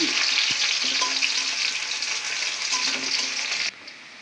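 Onions sizzle loudly in hot oil in a wok (kadai) for a village-style fish curry, a steady bright frying hiss with occasional stirring, dropping suddenly quieter near the end.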